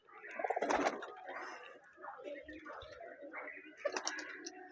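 Teddy pigeons coo in soft, rolling calls close by, partly under a person talking over them.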